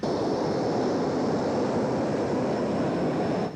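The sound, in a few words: world's smallest jet airplane at 1991 airshow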